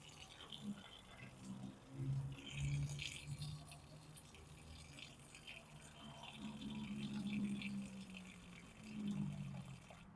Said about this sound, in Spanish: A esta igual le echo bastante agua.